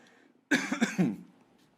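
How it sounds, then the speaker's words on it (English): A single close, sharp cough with a couple of quick bursts, then quiet. "One cough. We had like 15 coughs last show, so one cough I think I'm permitted."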